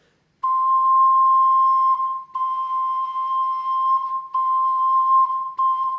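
A 4C-tuned ocarina sounds a single sustained note around 1 kHz with faint overtones, held steadily for several seconds with a few brief breaks where the player re-tongues, clear and close.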